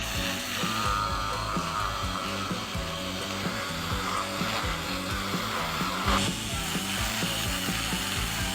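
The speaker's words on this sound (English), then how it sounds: "Now polishing the bolt assembly." A power tool whirs steadily while polishing the rusty bolt assembly of a PPSh submachine gun, a dense continuous grinding drone with rhythmic pulsing and scraping texture, close and loud with no voices.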